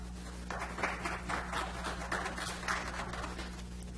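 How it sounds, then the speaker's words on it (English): Audience members at a Lincoln City, Oregon city council meeting give a polite golf clap, a soft, sparse patter of hands over a steady low electrical hum in a quiet room. "that was the nicest golf clap I've heard in a while"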